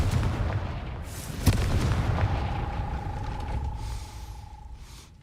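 A blasting spell explosion in Hogwarts Legacy, one sharp boom cracking out over a rumbling game soundscape, followed by a lingering ringing tone and fading low rumble.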